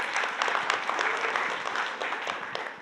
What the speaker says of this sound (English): So a round of applause even to Rachel and you guys on the stage